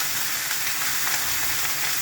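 Amaranth greens fry in a pan with a continuous, loud, hissing sizzle, dense and even throughout with no voices.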